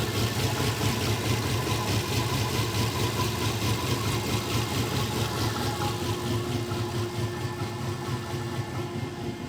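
A hot car engine idles with a choppy, uneven beat, running steady and close for the whole stretch with no one speaking.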